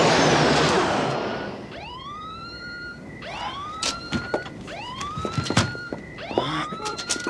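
An alarm siren wails in repeated rising sweeps following a loud rushing burst, with sharp clanks and bangs scattered throughout, close and prominent with no talking.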